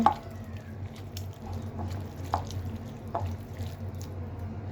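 Mustard oil being worked into a mash by hand gives soft, wet squishes and faint drips, quiet and close, with a low background hum and no talking.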